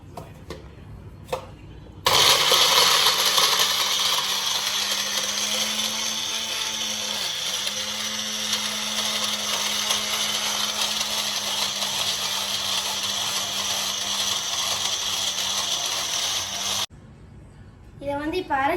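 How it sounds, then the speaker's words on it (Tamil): A mixer grinder blends mint, coriander, curry leaves, dried chili and coconut in one long, loud, steady whirring run of about fifteen seconds, with speech and handling clatter just before it starts and after it stops. "புதினா, கொத்தமல்லி, கருவேப்பிலை, காஞ்ச மிளகாய், தேங்காய் போட்டு மிக்சியில் அரைச்சிக்கலாம்"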